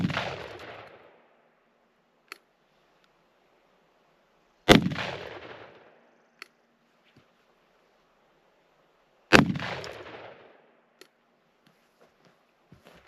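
Three loud, distant-echoing gunshots from a small handgun firing Hornady home defense rounds outdoors, spaced several seconds apart, each with a long rolling decay into near silence.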